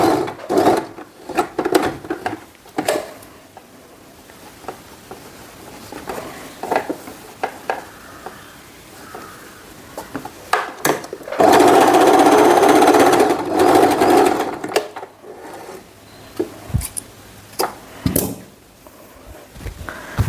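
A sewing machine stitching a silk pattu pavada skirt and long blouse, with a loud continuous run of stitching lasting a few seconds, amid scattered clicks and fabric handling.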